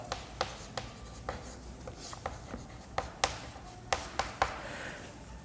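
Chalk or marker strokes on a classroom board while numbers are written for a maths lesson, a series of faint, sharp scratchy taps and short rubs spaced irregularly, no talking.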